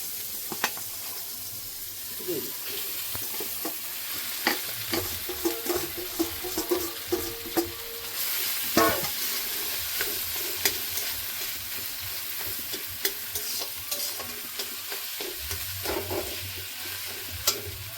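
Grated boiled potatoes fried in a pan with lightly fried ingredients for a semolina and potato snack, a continuous low sizzle with scattered spatula scrapes and taps against the pan throughout.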